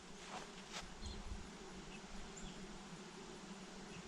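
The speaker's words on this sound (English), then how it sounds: "Man, I can hear the bees humming." Bees humming among flower blooms outdoors on a property, a steady faint buzzing drone with no talk.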